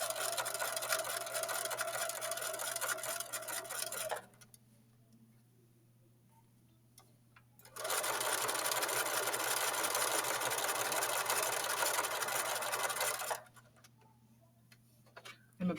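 A sewing machine stitching a side seam with a pocket runs in two sustained bursts of rapid mechanical whirring, close and loud, separated by a quiet pause with faint handling sounds, then a brief restart at the end.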